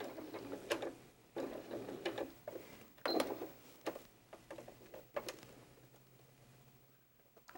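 A sewing machine stitches fabric pieces for a hedgehog softie in short bursts of quiet mechanical whirring and ticking, separated by pauses while the fabric is pivoted around curves.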